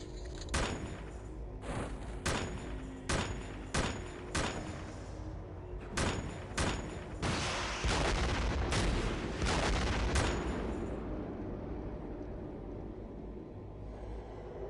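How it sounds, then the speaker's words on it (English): Launcher fire in the strategy game X-Com Files: a series of sharp, loud discharges in an irregular volley, followed by a sustained rumbling blast that fades out. "Fire the attack launcher."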